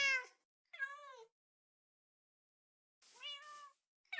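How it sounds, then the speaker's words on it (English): A cat in the video game Minecraft meows three times, clear and close, each short mew separated by silence, with the start of another at the end. "We got a cat called Raven."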